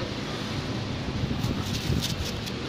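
Wind blowing steadily outdoors across a microphone, a continuous rumbling wash of noise with a few brief gusty flutters, close and fairly loud, with no clear talk over it.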